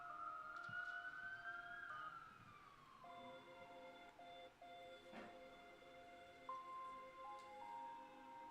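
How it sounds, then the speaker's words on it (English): A police or ambulance siren wails in the distance, its pitch sliding and wavering over several seconds, faint and far off with no talking. "That's either the police or a mental health ambulance."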